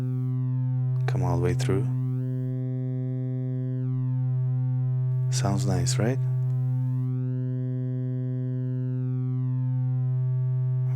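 A Syntrx II synthesizer sustains a square-wave tone with its filter opened, a bright, buzzy, steady drone while someone talks over it in two short bursts.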